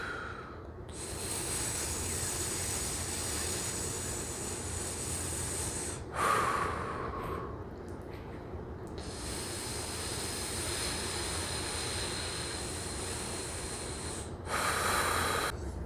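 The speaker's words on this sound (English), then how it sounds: "So you can just hold here and breathe." Slow, deep breathing while holding a shoulder elevation exercise with cotton bands, long airy inhales and exhales that carry on near-continuously, close and fairly soft, with brief pauses between breaths.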